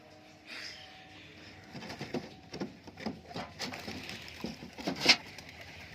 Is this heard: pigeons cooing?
yes